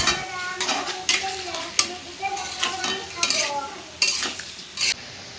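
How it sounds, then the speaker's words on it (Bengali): Onions frying in oil in a kadai for Hyderabadi mutton biryani, loud close sizzling broken by repeated scraping stir strokes and spoon clinks in an uneven rhythm, with no voices. "এবার আমি এদিকে কড়াইয়ে দেখো পেঁয়াজ দিয়ে দিলাম, পেঁয়াজের সাথে দিয়ে দিয়েছি তেল"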